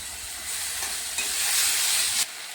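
Ginger, chilli, garlic and onion paste dropped into hot oil with bay leaves in a pan, the sizzle swelling into a loud, steady hiss that cuts off abruptly near the end.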